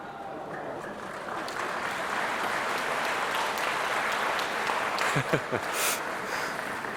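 Stadium crowd at a women's rugby final between Japan and Hong Kong applauds steadily as a player collapses on the sideline, a continuous wash of clapping with a commentator talking over it.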